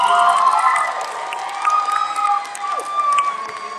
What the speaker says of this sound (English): round of applause for our models